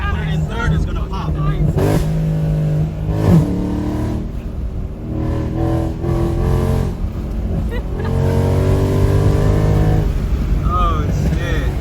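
A car revs hard up through the gears, engine pitch climbing and dropping with each shift in a loud, close run of accelerations, while excited voices talk over it.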